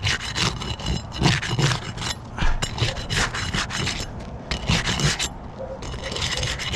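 Tar strips on roof shingles are broken apart during a repair: close, rough scraping and tearing strokes come in quick, uneven bursts.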